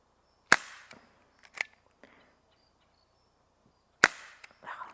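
A Dan Wesson 6-inch CO2 BB revolver fires two sharp, fairly quiet pops several seconds apart in a backyard, each followed by small clicks and taps of the action and target, with no talking.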